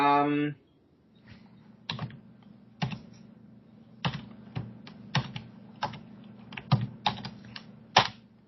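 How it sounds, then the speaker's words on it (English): Keys clack on a computer keyboard in irregular bursts over quiet room tone, with a brief voice at the start and a low steady hum underneath. "somebody's typing."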